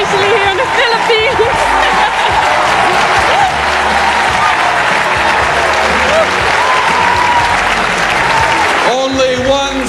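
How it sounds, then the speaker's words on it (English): A crowd at the Miss Universe 1994 pageant in the Philippines cheers and applauds loudly and continuously, a dense roar of clapping and shouting that drops off near the end as a voice speaks. "I knew the crowd would go crazy for Charlene Gonzalez"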